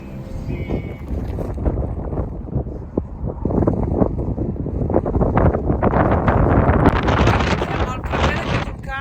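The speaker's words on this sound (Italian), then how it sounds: "c'è un vento incredibile" Strong gusts buffet the microphone at a volcano crater in Iceland, a loud rumbling roar that swells toward the end, with voices talking beneath it.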